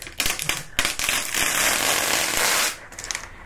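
Protective plastic wrapper crackling and tearing as it is peeled off a new HP Pavilion 15-n232sa TouchSmart laptop, a close, loud rustle with a few sharp crinkles that stops abruptly near the end.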